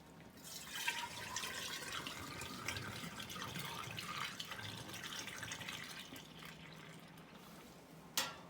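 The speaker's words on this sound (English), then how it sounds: "Making sure not to overly fill the jars." Raw milk pours into glass jars during bottling, a quiet continuous splashing trickle with small gurgles close by, ending with a brief sharp clink near the end.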